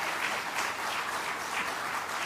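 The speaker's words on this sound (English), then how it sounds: "big round of applause again" Steady applause from a crowd at a foundation day celebration, dense and continuous clapping throughout at moderate volume.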